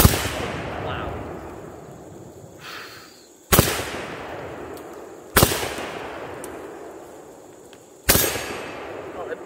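Saiga 12 semi-automatic shotgun firing magnum shells: three loud, sharp blasts spaced a couple of seconds apart, each with a ringing echo tail, over steady outdoor background noise.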